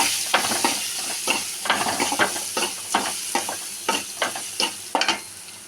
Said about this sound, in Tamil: கொஞ்சம் வெங்காயத்தை போட்டு வதக்கிக்கணும்.